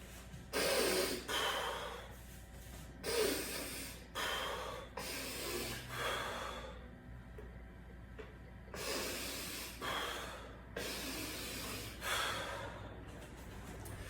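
Repeated sharp, forceful breaths in the Vranich breathing technique, a series of hissing inhales and exhales in bursts with short pauses, close and fairly loud with no talking.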